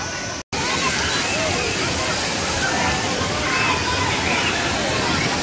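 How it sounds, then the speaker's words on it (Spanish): Water from a giant bucket at a Six Flags water park crashes down in a loud, continuous roar and slosh, steady and close for several seconds after a brief cut at the start. "es un gran impacto que reciben ya cuando cae todo el agua"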